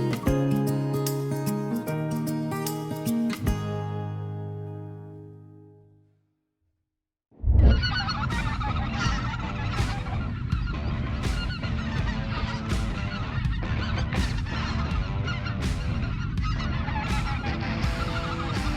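Speckle-bellied geese honking in Stuttgart, Arkansas, a steady chorus of repeated high calls from a flock, following a stretch of unrelated music that fades to silence.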